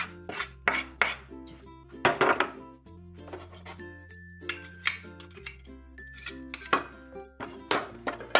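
A metal spatula stirs roasted mawa through a hot kadhai, giving repeated close clanks and scrapes against the pan in an uneven rhythm with brief pauses between strokes.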